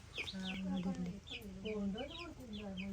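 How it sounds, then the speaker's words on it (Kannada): Chickens cluck in a backyard coop at a rural home, a steady run of close, overlapping calls lasting the whole stretch. "ಇಲ್ಲಿ ಕೋಳಿ ಉಂಟು"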